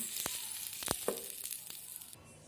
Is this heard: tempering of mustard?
yes